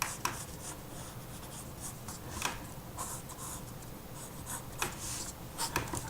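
Pencil drawing the palm of a manga-style hand on paper, with soft continuous scratchy strokes and light rubbing, close and steady, no talking.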